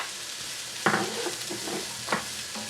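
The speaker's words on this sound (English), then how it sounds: "Just stir that round just to get the flavour of the spices and to cook out the dried spice in there" Dried cayenne and cumin stirred into a sizzling chilli pan: a soft, steady fry with two sharper scraping strokes of the spoon against the pan, quiet and close.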